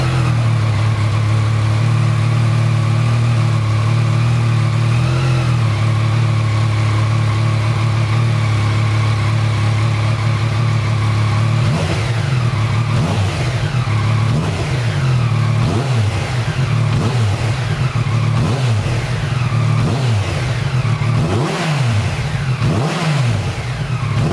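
A Yamaha MT-09 SP motorcycle with a full Akrapovic exhaust and the dB killer removed idles with a deep, steady rumble, then breaks into repeated sharp throttle blips and revs that rise and fall loudly and close by.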